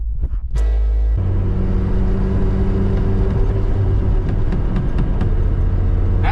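An AWD Honda CRX with a billet shifter being driven in third gear, a loud, steady low engine and road rumble that starts after a brief knock and holds even throughout, with no talk.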